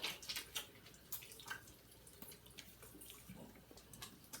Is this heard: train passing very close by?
no